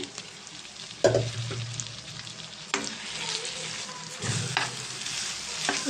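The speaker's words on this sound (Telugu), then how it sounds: "చికెన్ బాగా ఫ్రై అయింది కదండి ఇప్పుడు దీంట్లోను బియ్యం వేసేస్తున్నానండి" Steady sizzling of rice frying with chicken in a pan for biryani, with a few louder clatters and stirring scrapes as ingredients are tossed in and moved around.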